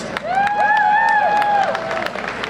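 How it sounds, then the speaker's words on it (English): A festival crowd at the Toronto Ukrainian Festival claps and cheers steadily for the full stretch, with high whooping voices rising above a dense wash of applause. "Let's hear a big round of applause if you're doing great."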